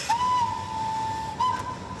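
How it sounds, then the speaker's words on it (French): A steam locomotive on a lakeside railway in Tyrol, beside the region's largest lake, sounds one long sustained whistle blast, loud and steady, briefly breaking and resuming near the end, with faint hiss underneath. "leurs sifflets retentissent sur les rives du plus grand lac du Tyrol, Arendsee"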